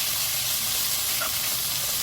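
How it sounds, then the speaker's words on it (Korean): Korean namul vegetables stir-frying in a hot pan produce a dense, loud, steady sizzle with a faint stirring sound near the middle, close and uninterrupted. "처음에는 약간 강불에다가 어느 정도 달궈지고 익어갈 때는 중불로 해서 볶아주시면 좋아요"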